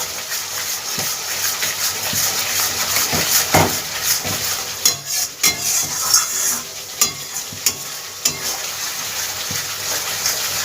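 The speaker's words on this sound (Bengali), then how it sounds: "ভালোভাবে কষিয়ে নেব মশলার মধ্যে নেড়ে নেব" Spice masala with kasuri methi stirred and fried for cabbage paneer, a steady hissing sizzle with repeated scraping strokes of a spoon against the pan, close and fairly loud, no voices.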